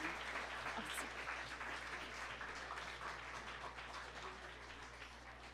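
A live audience applauds a presenter after a short talk about beers at a science-outreach evening, a dense, steady patter of many hands clapping at once that carries on evenly for several seconds, heard at a moderate distance without any voices.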